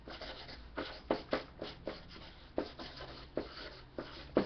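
Marker squeaking and scratching across a surface in short irregular strokes, faint and close, with no talking.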